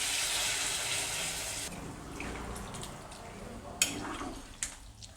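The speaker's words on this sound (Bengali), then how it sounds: "সেদ্ধ হওয়ার জন্য দিয়ে দেবো পরিমাণ মতো জল।" Water poured into a pan of jackfruit (echor) curry for boiling: a steady rushing pour for about two seconds, then quieter trickles with a few sharp clinks of the pan.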